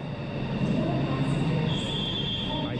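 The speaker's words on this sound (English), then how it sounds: "There goes the train." An Indonesian high-speed bullet train rumbles past at a steady level, with a thin metallic squeal riding over the low wheel noise.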